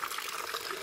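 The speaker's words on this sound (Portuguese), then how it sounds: "Eu pego um copo de liquidificador de água e vou" Water poured from a blender cup onto a staghorn fern (Platycerium alcicorne), a soft steady trickle and splash running throughout at low level, with no voices.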